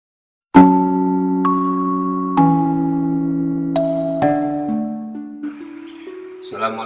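A subscribe notification bell plays as a chiming sequence of bright, ringing tones, several struck notes stepping down in pitch with long sustained decays, ending in a quick flurry of higher chimes.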